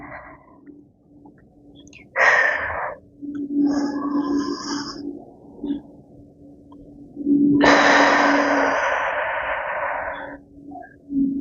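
Slow, controlled breaths from diaphragmatic breathing practice with a rolling pin, two long airy exhalations through the mouth, close and clear, with a soft steady hum underneath.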